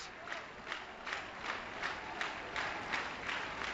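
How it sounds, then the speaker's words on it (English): A nice crowd at a Saturday night baseball game claps in rhythm, a steady run of evenly spaced claps from a broad, distant mass of spectators. "Rhythmic applause from the nice crowd on hand on this Saturday night"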